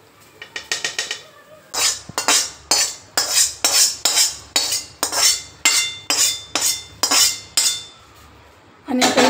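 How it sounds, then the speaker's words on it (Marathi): Poha chivda mixed with hot oil using a spoon, a quick flurry of metallic clinks followed by a regular series of about a dozen rhythmic scraping strokes against the vessel, close and loud with no talking. "आणि आता हे सगळं आपण मिक्स करून घेऊ व्यवस्थित."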